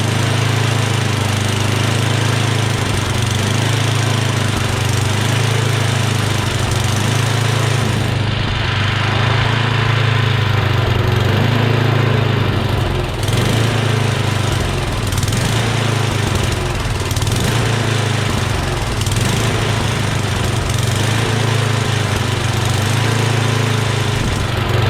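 A Yardman 8HP dual-stage snowblower engine runs loud and steady close by, a continuous buzzing drone with slight fluctuations, with no speech.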